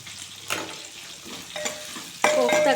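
Chopped onion sizzles steadily in hot oil left over from frying mutton koftas for a curry, with scraping stirs near the start and middle. A louder, sharper hiss bursts up toward the end, close by.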